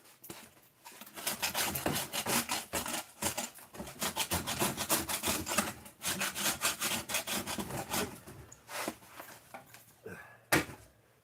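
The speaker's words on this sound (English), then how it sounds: "I'm gonna go scrape that up real quick and find my putty knife." A putty knife scrapes spilled wax off a surface in quick, rough strokes, a dense run of gritty rasping that continues almost without pause and is heard close and alone, with no talking.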